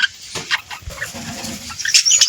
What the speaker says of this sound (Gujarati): બધા ચકલા આપણે અહીં બેઠા છે